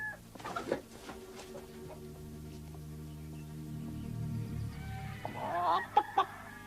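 A rooster clucks and gives a short crow-like call, fairly faint, with scattered clucks early on and a busier burst of calls near the end over a low steady hum.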